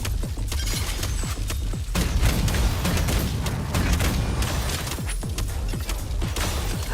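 Grenade explosions and gunfire in a video game, dense overlapping booms and sharp shots rolling continuously and loudly throughout, with no talk.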